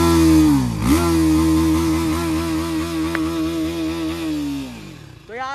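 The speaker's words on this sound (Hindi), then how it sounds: "अब देखो यार इसका एग्जॉस्ट सुनो एक बार।" TVS Apache RTR 310 motorcycle exhaust revving close up, a loud steady growl that dips briefly near the start, holds a strong drone, then drops off and blips again at the end.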